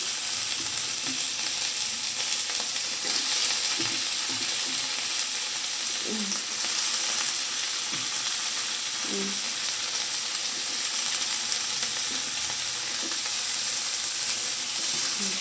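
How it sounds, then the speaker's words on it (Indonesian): Freshly washed capcay vegetables go into a hot pan with tomato and fragrant aromatics and are stirred, giving a steady, even sizzle and frying hiss with occasional soft scrapes and clinks of the spatula. "Lalu kita aduk sampai serata."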